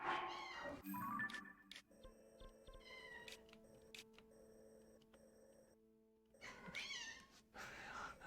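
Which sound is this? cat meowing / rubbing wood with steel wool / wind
cat meowing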